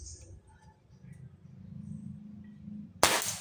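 A compact multishot air gun fires once with a single loud, close, sharp crack near the end, after a quiet stretch holding only a faint click and low background rumble.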